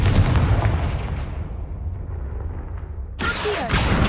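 A blasting spell from a Harry Potter video game erupts as a loud, rumbling boom that slowly decays, followed near the end by a sharp, bright burst.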